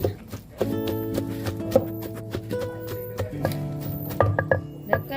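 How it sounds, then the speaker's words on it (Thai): Rhythmic pounding of pork skin with garlic in a mortar, steady dull thuds repeating close by over a sustained tonal background hum. "โขลกหนังหมูให้นิ่ม หนังหมูกับกระเทียม"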